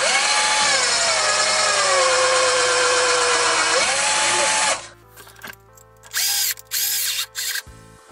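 Cordless screwdriver converted to a lithium-ion battery, its motor whirring loudly at free speed for several seconds before cutting out, followed by a few short on-off bursts.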